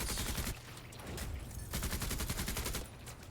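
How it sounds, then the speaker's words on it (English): Video game gunfire, a series of sharp shots and rapid bursts repeating over a few seconds at steady loudness, with no talking. "so let's just take 2 pot shots"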